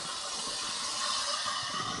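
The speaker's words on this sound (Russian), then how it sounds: "Слушайте, как жарится." Food frying on a newly won grill in a village setting, covered with a lid, gives a steady, broad sizzling hiss that holds evenly throughout, close and moderately loud, with no voices.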